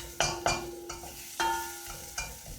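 Spices cooking over a slow fire in a pan, a steady soft sizzle broken by a few sharp stirring scrapes and clatters, fairly close and with no talking.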